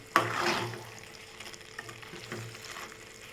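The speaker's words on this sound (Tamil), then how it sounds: "தேங்காவை சேர்த்தாச்சு. சேர்த்து நல்லா வதக்கிக்கோங்க." Grated coconut and masala for veg keema curry sautéing in a pan, starting with a sharp stir or scrape, then soft, quiet sizzling with faint occasional stirring.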